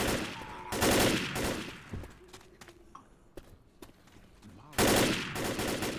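Rifle gunfire in the zombie shooter video game Left 4 Dead: loud bursts of rapid automatic shots near the start and again near the end, with quieter game ambience between.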